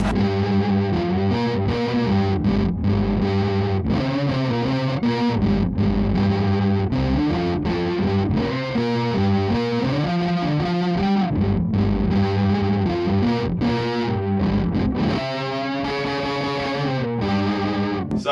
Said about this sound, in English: Let's see what it sounds like with a Strat